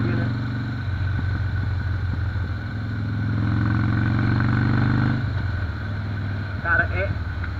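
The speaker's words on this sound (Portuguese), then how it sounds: "essa moto sem bateria nenhuma tá rodando suavaço" A Harley-Davidson Dyna Super Glide motorcycle engine, running without a battery, idles steadily up close, its low throbbing rumble rising and falling slightly, with a brief clatter near the end.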